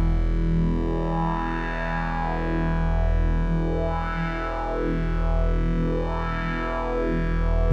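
A buzzy, distorted synthesizer tone holds steady while a quick wobble makes its timbre pulse and sweep in a repeating pattern.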